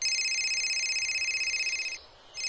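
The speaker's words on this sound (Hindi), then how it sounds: "मेरे बेटे का फोन आ रहा है।" A telephone rings steadily for about two seconds in a bright, continuous electronic tone at moderate volume, breaks off briefly, then starts again. No one speaks over it.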